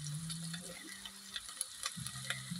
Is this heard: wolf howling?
no